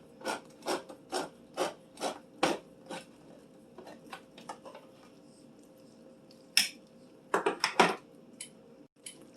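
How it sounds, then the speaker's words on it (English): A can of diced tomatoes being opened with a hand can opener, a run of regular ratcheting clicks followed by a pause and a quicker burst of cranking, close and crisp against a quiet kitchen. "Let's go ahead and open up the diced tomatoes"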